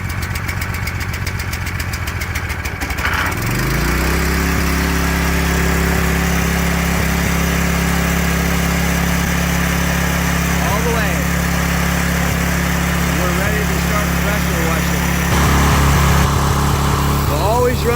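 A DeWalt 4000 PSI gas pressure washer engine is pull-started and settles into a loud, steady running drone that carries on alone to the end, with a brief rise in pitch near the finish.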